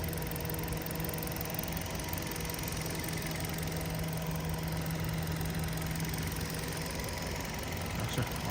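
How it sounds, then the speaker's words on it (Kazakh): A 2017 Kia Rio with a 1.6 engine and automatic gearbox idles steadily, giving a low, even hum with a faint tick. The sound stays close and unchanging throughout, with no talk. "Мотор жағы четкий іштеп тұрады"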